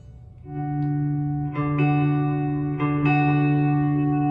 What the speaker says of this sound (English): it is a very, very bright repeat on that delay